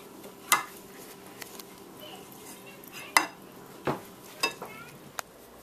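A utensil clinks and scrapes against a bowl while food is stirred and mixed at home, giving several sharp, separate taps over a soft background of quiet scraping.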